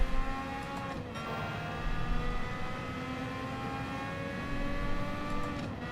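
Mazda MX-5 engine in Gran Turismo 7, a steady sustained drone with harmonic lines shifting slightly in pitch, held at moderate level throughout with no talk.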